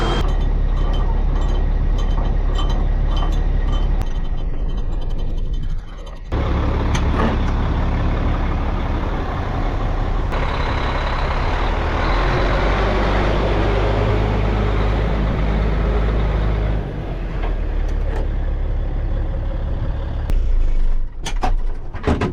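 A hay-hauling truck engine cranks over and settles into a loud, steady rumbling run, heard close by and continuous for over twenty seconds with no talk.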